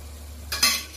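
Chili powder and ginger paste are mixed with a little water for an egg bhapa. A brief, soft wet stirring scrape is heard close up and alone in a quiet kitchen.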